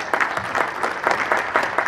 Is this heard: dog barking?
no